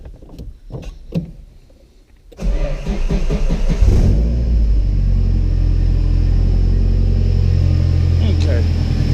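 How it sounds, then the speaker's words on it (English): A Nissan S14 car engine cranks and catches, then settles into a loud, steady idle close by, with some faint clicks and movement beforehand. "let me turn the car on"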